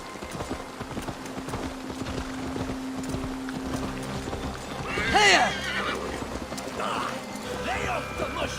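Horse sounds from Assassin's Creed Valhalla, with hoofbeats clopping steadily and a loud neigh partway through, heard over wind and talk.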